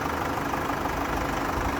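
Chevrolet Captiva 2.2 diesel with 4x4 and automatic transmission idling steadily, a continuous close engine rumble with no talk over it.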